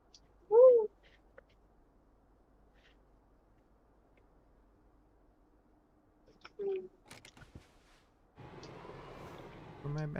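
A cat gives one clear, close meow near the start, followed by long quiet, a few soft clicks and rustles, and then a steady background noise near the end.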